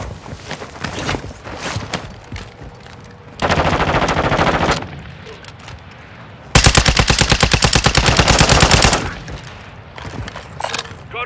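Bursts of automatic gunfire in Call of Duty Modern Warfare 2 DMZ, two long loud rattling volleys separated by quieter stretches of scattered shots and footsteps.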